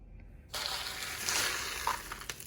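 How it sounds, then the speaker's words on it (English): A sudden onset of steady crackling sizzle as grain flour fries in a hot pan, continuous and close with occasional louder pops. "So I'm going to fry this for about 10 minutes"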